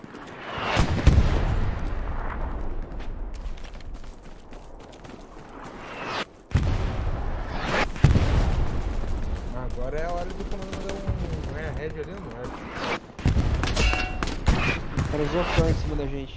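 Gunfire in the World War II shooter Hell Let Loose during a large mixed-clan community event: sharp shots and bursts crack near and far, with booming reports echoing, mixed with players talking over voice chat.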